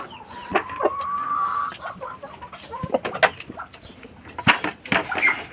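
Rhode Island chickens on a farm clucking close by, with short repeated calls and chatter over a busy background of other fowl, no talking.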